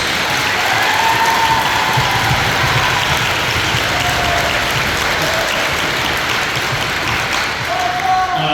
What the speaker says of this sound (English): give them a big round of applause for all of our seniors